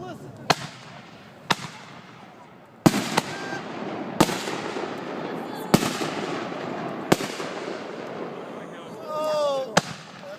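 Fireworks explode at the Carnation fireworks show, a series of sharp booms spaced a second or two apart, with crackling tails and a whistling rocket near the end, while people talk nearby.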